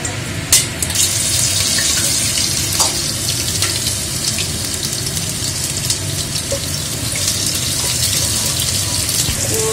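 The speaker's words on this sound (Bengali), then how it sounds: "পেঁয়াজ রসুন একসাথে ভাজা হচ্ছে।" Onion and garlic fry in hot oil with bay leaf, cardamom, cinnamon, peppercorns and cloves, giving a steady close sizzle with faint crackles and a few clinks throughout.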